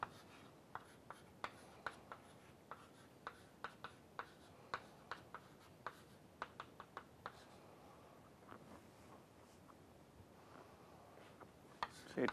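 Chalk or marker writing on a board during a mathematics lecture on Brownian motion, a quiet run of short scratchy taps and strokes in uneven rhythm, faint and somewhat distant with no talking.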